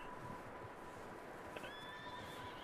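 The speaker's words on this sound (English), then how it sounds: "Ooh, a horse. There's a horse in there." In Red Dead Redemption 2, a horse inside a barn gives one whinny partway through, rising and wavering over a quiet background.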